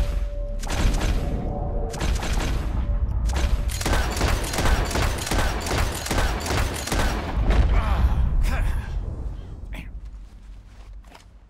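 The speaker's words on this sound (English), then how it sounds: "As soon as you see them, start shooting." Rapid gunfire from a shooting contest in Red Dead Redemption 2, dense volleys of sharp shots fired in quick bursts with brief gaps, loud and close, thinning out to scattered shots near the end.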